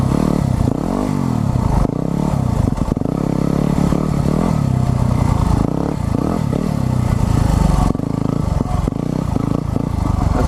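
A new motorbike with the exhaust baffle fitted revs hard, its engine roaring loud and close in rising and falling bursts with some clatter, lasting throughout.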